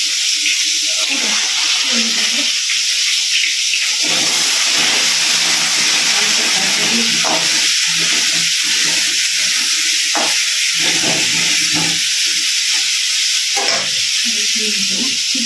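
Meat goes into a pan to cook, with a loud, steady sizzling hiss running throughout while someone talks over it.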